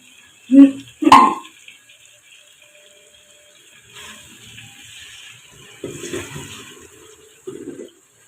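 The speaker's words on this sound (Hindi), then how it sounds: "पानी डालते हैं।" Water goes into a pot of ghee-fried bone-in mutton for shorba: two sharp metallic clanks come first, then a quieter stretch of splashing and pouring with a few louder sloshes.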